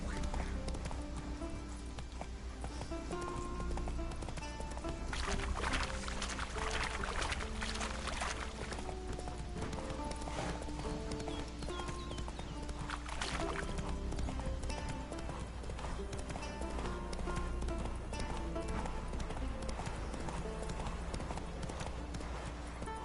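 A horse galloping in The Witcher 3: Wild Hunt, with rapid, continuous clip-clop hoofbeats throughout, loud and close, layered over other game sounds and faint voices.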